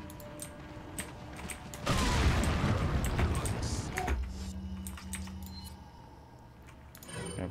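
A grenade explosion in Resident Evil 4 bursts in as a loud, broad roar that holds for about two seconds, then settles into a low rumble with scattered game sounds and a voice talking.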